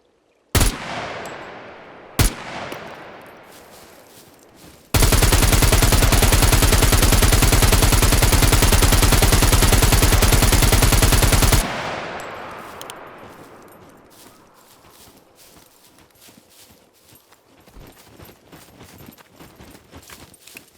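Sustained automatic gunfire in the survival game SCUM, fired at zombies coming out of woods: two sharp single shots, then a loud continuous burst lasting about seven seconds, followed by fading echoing tail and sparse movement sounds.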